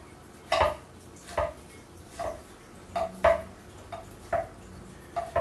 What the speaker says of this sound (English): and I'm dicing half a tomato